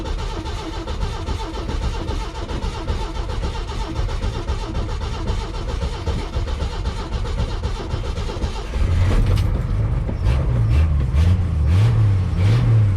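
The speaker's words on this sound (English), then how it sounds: "I'm gonna just crank and pump until it starts" A carbureted car engine with its choke disabled cranks steadily for about nine seconds, then catches and fires, running unevenly as the throttle is pumped to keep it alive, loud and close with no talk.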